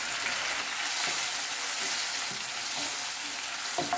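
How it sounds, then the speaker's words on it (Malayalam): Chicken pieces shallow frying in a pan give a steady, close sizzle and crackle, with occasional soft stirring scrapes and no talk. "ഇതിപ്പോൾ ഒന്ന് ഷാലോ ഫ്രൈ ചെയ്തെടുത്താൽ മതി"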